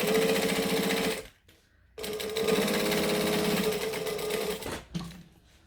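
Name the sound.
sewing machine top stitching the exterior on a decorative stitch length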